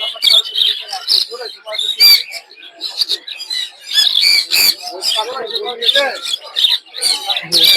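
Dense, sharp chirping from many lovebirds at a bird market in Mirpur, Dhaka, rapid overlapping tweets and squawks close by, mixed with a voice talking.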